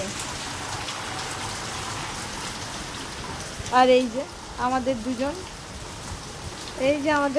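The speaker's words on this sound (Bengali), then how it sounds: "বিশাল বৃষ্টি হচ্ছে, চিন্তা করা যায় না এত বৃষ্টি হচ্ছে" Heavy monsoon rain pours down in a constant dense hiss throughout, while a person speaks briefly over it in the middle and near the end.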